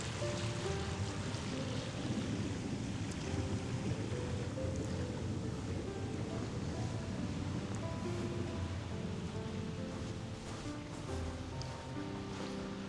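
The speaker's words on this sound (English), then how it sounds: "You got a waterfall going down." A waterfall pours into a heated jetted spa at a luxury home, producing a constant, full-bodied rush of splashing water with steady loudness and no talk.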